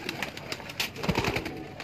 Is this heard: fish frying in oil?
no